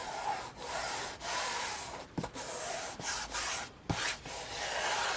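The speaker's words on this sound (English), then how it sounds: "So we have that covered. Just smoothing it out." Hands smoothing fabric over a journal cover make soft, steady rubbing and brushing strokes, several sweeps broken by brief pauses, close and quiet with no speech.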